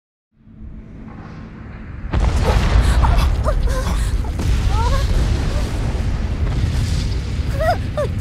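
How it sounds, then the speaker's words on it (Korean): A loud explosion boom in Changjo Jeonsegi 4 (Changjo Jeonsegi 4 tutorial playing as Ian) erupts after a quiet lead-in, followed by sustained rumbling game noise with voices speaking over it. "뭔가가 폭발했나봐, 이안."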